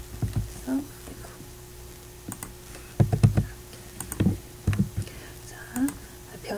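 Computer keyboard typed softly while coding in jQuery, with light scattered key clicks in short bursts under steady room tone and occasional quiet talk.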